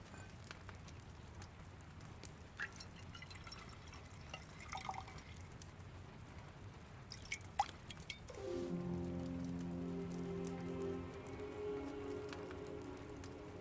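Liquid pours steadily while brewing in Kingdom Come: Deliverance II, a gurgling stream that starts partway through after scattered faint drips and taps.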